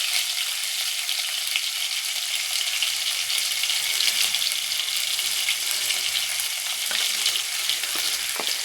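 Mustard seeds, urad dal, fenugreek and garlic crackle and fry in hot oil, a steady dense sizzle with scattered pops, close and fairly loud throughout, with no talking.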